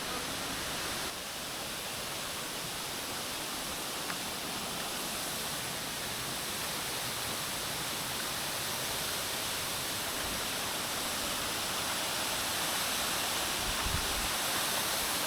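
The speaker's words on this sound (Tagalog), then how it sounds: "Yan, Batlag Falls." Batlag Falls in Tanay, a waterfall rushing with a steady, dense roar that fills the whole clip, loud and continuous with no talk over it.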